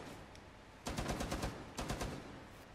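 Rapid automatic gunfire from the video game Rainbow Six Siege: two short, loud bursts of quick shots separated by a brief pause.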